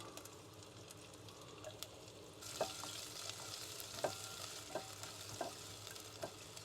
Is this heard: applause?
no